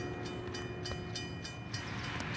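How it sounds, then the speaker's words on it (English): A northbound train locomotive, one unit giving off a distinctive sound, approaches a station in Carlisle, heard as a steady loud rumble with regular rhythmic clanking bursts and high screeching tones, with no talk. "one of his locomotives was making a very distinctive sound here"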